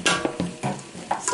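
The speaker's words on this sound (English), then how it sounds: "And then just kind of give it a stir around" A spoon stirs tomato puree into a Quorn mince bolognese sauce in a pan, making close, continuous scraping and wet squelching with a light sizzle underneath for a moment.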